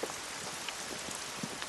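Rain falling outdoors, a dense steady patter of drops on surfaces with a few louder individual hits, continuous and alone without voices.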